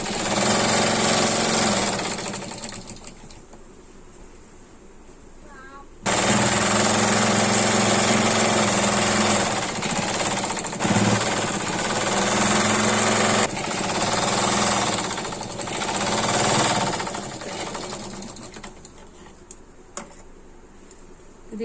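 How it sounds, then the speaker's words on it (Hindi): A sewing machine stitching a lehenga seam runs loud and steady in long bursts, pausing briefly near the start and slowing to a stop toward the end. "अब यहाँ पर हम सिलाई लगाएंगे। सबसे पहले इसको बैठाने के लिए पूरे में सिलाई लगाएंगे।"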